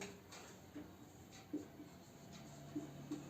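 Pen writing on paper during a class lesson, with faint, soft scratching strokes that come in short bursts. Quiet and close, with light room noise.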